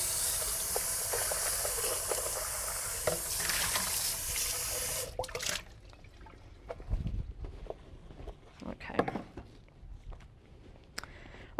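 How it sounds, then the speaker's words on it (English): A blender is rinsed under a running tap in a home kitchen sink, a steady hiss of flowing water that stops midway, then scattered clinks and knocks of the jar being handled. "just go wash my blender for a second"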